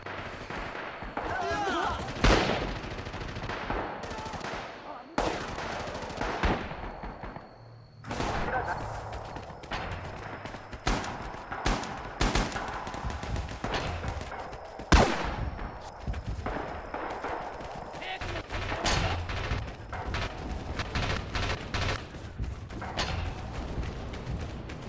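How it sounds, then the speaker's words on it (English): Mortar blasts and rifle and machine-gun fire in the war game Rising Storm, a loud, chaotic run of sharp shots and heavier booming impacts across the whole stretch, with shouted voices mixed in. "Mortar incoming."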